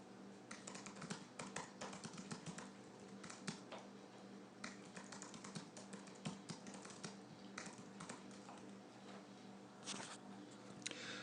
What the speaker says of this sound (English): I'm just going to type for a second.